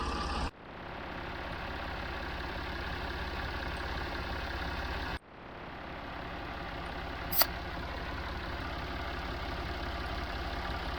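A small engine idles steadily after starting, a constant low drone near and moderately loud, with brief drops and one sharp click partway through; no talking.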